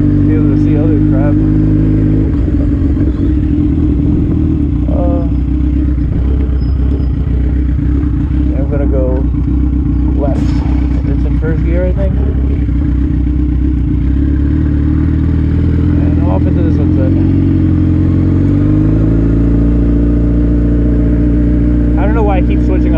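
A modified Suzuki GSX-R1000 rumbles at low revs while being ridden, a loud, continuous engine drone with gear changes and shifting pitch, while a rider talks over it throughout.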